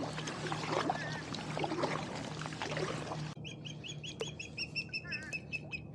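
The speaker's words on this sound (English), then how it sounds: "There's an osprey chasing some crows." Near a tiny island, an osprey chases crows; bird calls sound over wind and water, then clearer repeated high chirping calls ring out in a quieter stretch.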